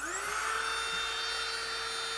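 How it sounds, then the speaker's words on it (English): A small Seekone heat gun running at a higher setting gives a steady, high-pitched electric whine with a constant fan hiss, close and unbroken throughout. "So it's got kind of a whine"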